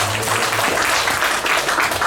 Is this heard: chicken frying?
no